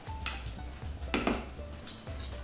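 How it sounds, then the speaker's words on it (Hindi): Chopped onion sizzles in a pan of popped mustard seeds, soft frying hiss broken by a few quick spoon stirs and scrapes against the metal, fairly quiet and close. "1 छोटा प्याज डाल लेते हैं कटा हुआ, और 2 मिनट तक भूनिए"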